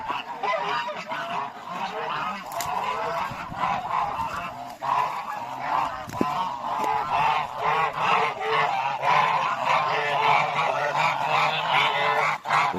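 A flock of Sherkan geese on a farm honks loudly and without pause, many overlapping calls forming a dense, steady clamor close by.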